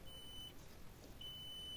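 A multimeter's continuity buzzer sounds while testing the tachometer on a washing machine motor: two faint, steady high beeps, the first short and the second held, with a pause between and low background noise.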